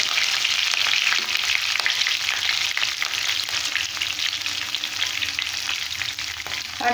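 Curry leaves, dried and green chillies and garlic frying in hot oil for an ivy gourd tamarind gravy, giving a steady, loud, close sizzle with crackling spits throughout and no talking.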